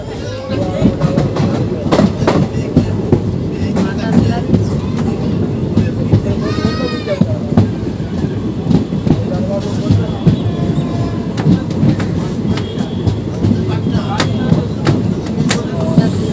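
Paharia Express passenger train running on rails as it curves, a steady loud rumble with rhythmic wheel clatter and a brief high squeal midway, close and continuous, with faint voices at times.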